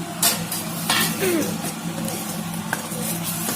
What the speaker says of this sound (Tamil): அதுக்கப்புறமா இப்போது நம்ம வணக்கி வச்ச கத்திரிக்காயையும் சேர்த்துக்கிறோம்